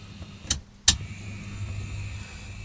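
Heljan OO gauge Class 07 model locomotive edging along near its stall speed: a faint, steady low motor hum with a couple of sharp clicks near the start.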